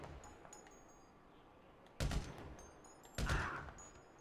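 Gunfire in the video game GTA V: two separate loud, sharp shot bursts about a second apart, each with a short tail, over a quiet low background and no talking.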